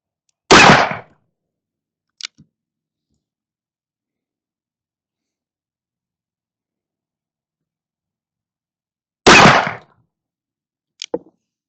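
Two loud, sharp gunshots several seconds apart during a pistol powder load test, each followed by faint small clicks; no talking.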